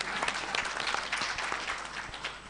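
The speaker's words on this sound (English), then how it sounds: "Can you clap for him?" An audience at a county executive committee induction session claps for the electoral returning officer. The applause is steady and fairly close, with thick overlapping claps holding throughout and no talking.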